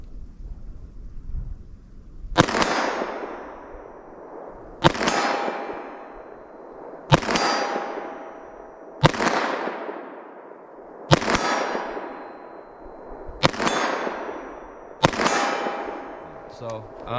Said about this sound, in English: I'm just going to get a front sight picture and fire kind of slow and see if I can hit this target